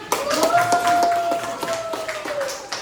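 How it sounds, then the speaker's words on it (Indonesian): An eighth-grade class claps in a classroom, a handful of separate, fairly sparse claps over a sustained whistle-like tone. "tepuk tangan dong"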